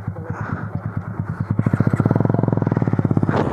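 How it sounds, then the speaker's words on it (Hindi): A motorcycle rides through a forest area in North Bengal, its engine pulsing in a rapid, regular beat close by that quickens and grows louder partway through as the bike speeds up. "ये फॉरेस्ट पार करके बाइक जाएगा, जाता है।"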